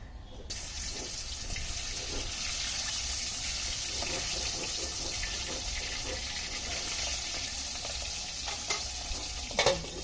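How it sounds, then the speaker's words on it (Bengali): Steady sizzling of pangas fish frying in hot oil, continuous and close, with occasional stirring clinks and no talking. "এখন এটা সুন্দর করে ভেজে রান্না করব"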